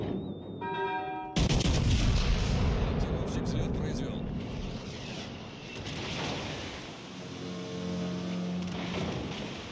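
Battleship main-gun salvo in World of Warships Legends, a sudden loud blast of heavy cannon fire that rumbles on with further booms and a muffled roar beneath it.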